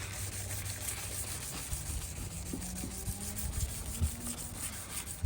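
Hand buffing of a cloudy car headlight lens on a 2007 Mitsubishi Galant Ralliart 3.8L, a steady close rubbing and scrubbing hiss with no talk.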